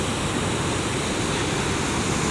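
Water pours over Denny's Dam on the Saugeen River as a steady, dense roar, loud and unbroken throughout with no talking.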